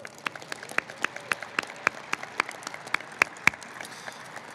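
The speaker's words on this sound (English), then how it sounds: "join me in a short round of applause for Charlotte for sharing her gifts with us" Light applause from a small group at a military change of command ceremony, scattered claps with a few sharper ones standing out, steady for several seconds with no talking.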